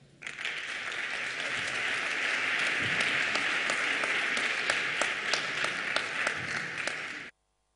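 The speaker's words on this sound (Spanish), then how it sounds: "Un aplauso, por favor." Sustained applause from an audience welcoming a speaker at a science talk on the safety of sweeteners, dense steady clapping for about seven seconds that then stops abruptly.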